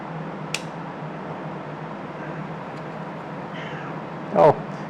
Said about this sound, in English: you can hear my poor kitty cat.